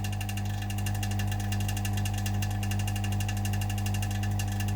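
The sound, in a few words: vacuum pump running to degas epoxy resin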